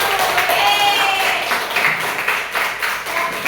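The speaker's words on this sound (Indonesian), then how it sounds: "Tepuk tangan" A classroom of students claps together in a lively burst of applause, dense and fairly loud, with faint voices mixed in, lasting a few seconds.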